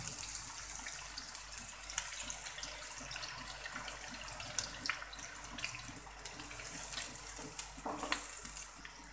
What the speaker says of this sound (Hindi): जी तो मैंने कढ़ाई में 1/4 कप ऑयल गर्म कर लिया है। अब इसमें मैं मीडियम साइज़ के 2 प्याज डालूंगी।